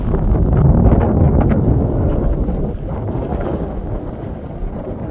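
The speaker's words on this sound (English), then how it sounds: "Oh, that wind is strong." Strong wind blowing across a steep cliff edge in a petrified forest, a loud continuous low roar and buffeting rumble that swells and eases slightly, dominating the scene without speech.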